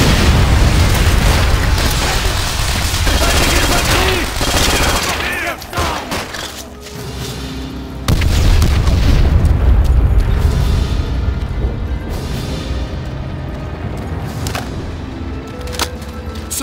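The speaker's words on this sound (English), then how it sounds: "Fire the Panzer Shrek." Panzerschreck rocket fire and explosions in the World War II game Call of Duty: World at War come as loud, continuous battle noise, with dense gunfire, bursts and booming blasts that keep rolling on and briefly dip partway through.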